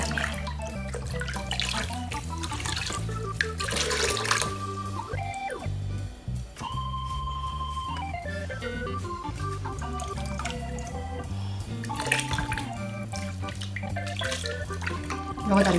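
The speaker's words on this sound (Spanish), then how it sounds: "sacar esto y enjuagarlo un poquito con agua del acuario." Aquarium water splashes and trickles as a filter sponge from a Sera filter is rinsed, a continuous wet sloshing layered over background music with tonal notes.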